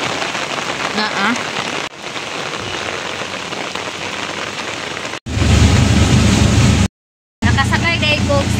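Heavy, steady downpour on a flooded town street, a dense hiss of rain hitting surfaces throughout, with a voice talking over it and a brief dropout near the end.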